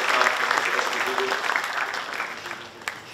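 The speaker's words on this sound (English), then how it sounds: "So we'll give a big clap to our" An audience at a university ceremony claps steadily, a dense wash of applause that holds for several seconds before thinning slightly at the end.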